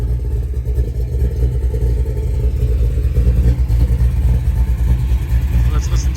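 A 1972 Chevrolet Chevelle with a 496 big-block V8 runs with a deep, loud, rumbling idle that swells slightly into revs. Someone talks over it throughout.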